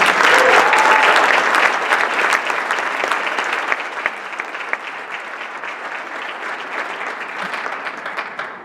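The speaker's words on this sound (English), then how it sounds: "please, a round of applause for Mr. Scott Nelson." Loud, dense audience applause for principal Scott Nelson at a high school holiday band concert, sustained clapping that gradually thins and softens before trailing off at the end.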